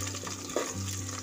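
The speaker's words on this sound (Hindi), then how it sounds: "प्याज और मिर्ची फ्राई हो चुकी है" Onions and green chilies fry in a pan, giving a steady close sizzle with a low hum beneath and one brief stirring scrape midway.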